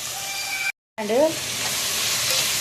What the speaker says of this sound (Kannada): tomato ಲಾಯ್ಕ್ fry ಆವಡು